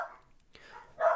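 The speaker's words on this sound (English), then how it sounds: "Muffin's barking at an intruder" A dog named Muffin, barking at an intruder, gives a short bark near the end, after a quiet stretch with faint soft sounds.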